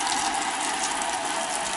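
Water rushing and gurgling steadily down an unclogged kitchen sink drain, a continuous close wash of splashing flow without talk.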